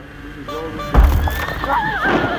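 A horse whinnies loudly amid a busy, rumbling background, its high, wavering call rising over a sudden thump.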